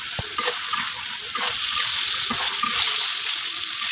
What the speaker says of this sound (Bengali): তো মশলার সাথে মাংসটা একটু কষানো হোক